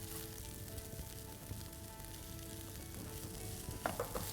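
Soya burger mix with grated cheese stirred in a pan, a quiet continuous low sizzle with soft scraping and a couple of sharper utensil taps near the end.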